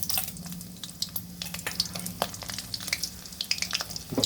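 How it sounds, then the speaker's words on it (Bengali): Green chillies and black cumin fry in hot oil in a pan, a close, busy sizzle with crackling pops and scraping stirs throughout. "তেলটা গরম হয়ে গেছে অলরেডি, তার মধ্যে দিয়ে দেবো কাঁচা লঙ্কাগুলো"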